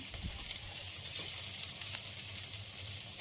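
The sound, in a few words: sautéing chillies and ginger slices in a pan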